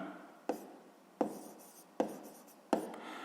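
A pen writes on paper while solving a sixth-grade maths exercise, producing four short distinct scratching strokes spaced about three-quarters of a second apart, close and quiet.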